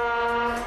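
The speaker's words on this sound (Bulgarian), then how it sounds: "А това е нашия влак!" A stationary steady multi-tone horn or whistle on a train at a wine-tasting meadow, a brief loud sustained chord held for under a second, no talk.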